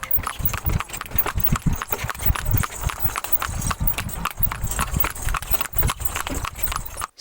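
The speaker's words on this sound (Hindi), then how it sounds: "सड़कों पर दौड़ते घोड़े के सुमो की आवाज कहीं मांद पड़ गई थी" A horse pulling a tanga cart on a road in Pakistan, steady rhythmic hoof clip-clops close by, with faint engine noise in the background.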